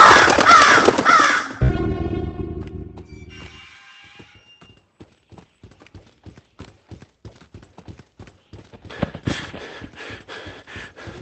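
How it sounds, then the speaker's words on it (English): Crows caw repeatedly in FNAF VR Help Wanted, loud harsh calls up front giving way to footstep-like clopping, then more cawing bursts near the end. "All the while watching out for those pesky crows."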